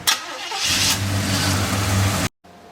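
A car engine cranks briefly and then catches, settling into a loud, steady running rumble close by before cutting off abruptly.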